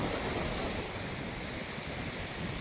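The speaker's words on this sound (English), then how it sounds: "Fair amount of wind and some good waves out there" Waves and wind on a Vancouver Island beach make a constant wash of surf mixed with blustery wind noise, steady and moderately faint, with no speech.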